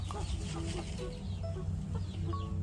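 Laying hens in a small backyard flock cluck softly and intermittently, several short calls from nearby over a low steady hum, with no talking.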